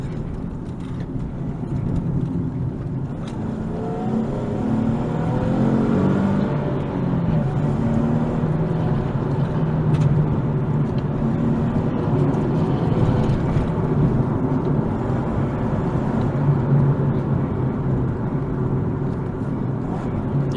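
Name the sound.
Nissan 370Z manual sports car driving with throttle blips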